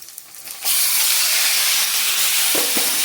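Sudden loud, steady hiss of marinated chicken poured into hot oil, sizzling continuously after a brief quieter start, with a couple of soft clinks near the end.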